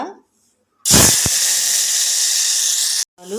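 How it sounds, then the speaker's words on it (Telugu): Potato pieces drop into hot oil for a potato rice dish, setting off a loud, steady sizzling hiss that starts abruptly and runs about two seconds before cutting off, with brief talk just before and after. "చక్కగా ముక్కలు వేగుతూ ఉన్నాయి"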